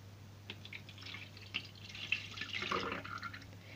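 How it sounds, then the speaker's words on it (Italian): Soy milk, about 250 ml, is poured into a blender: a faint, trickling, splashing stream of liquid rising over a few seconds against a low steady hum. "Adesso è il momento di versare tutti gli ingredienti nel nostro frullatore. Iniziamo con la soia"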